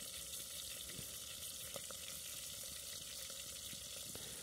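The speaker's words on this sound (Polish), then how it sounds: "Dopiero smażą się około 3 minut." Chicken drumsticks frying in a pan outdoors in a forest under a tarp, a faint steady sizzle with occasional small pops and crackles, no talking.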